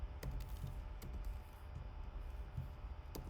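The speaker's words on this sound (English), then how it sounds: "I'm typing my password in the other window" Soft, quiet keystrokes click in an uneven rhythm, a few taps at a time on a keyboard close by, with no talking.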